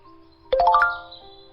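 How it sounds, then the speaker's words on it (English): Phone message alert tone: a quick rising run of bright chiming notes, clean and close, ringing briefly before fading into quiet. "his phone alerted him that he had a new message"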